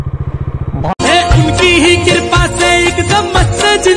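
A motorbike descends a rough, dangerous path near a lake, its engine note steady and fairly loud after a brief idle pulse, with clattering and bumps throughout.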